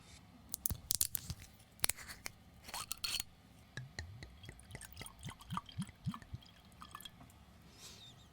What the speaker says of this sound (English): pouring it into the glass